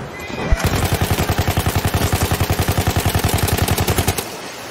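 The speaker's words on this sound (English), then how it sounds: "The fucking horse ran over my artillery." A horse whinnies in the World War II shooter game Battlefield V, followed by a long run of fast, evenly spaced loud pulses that sound like rapid gunfire or galloping and stop abruptly after about four seconds.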